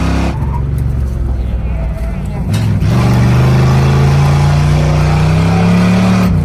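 Car on a track sliding and oversteering through a turn, a loud roaring engine with tire noise and a rising engine pitch near the end, with excited voices talking over it.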